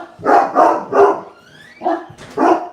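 Dog barking close by, a run of about five sharp barks in an irregular rhythm with a short pause midway, loud and clear with no other sound.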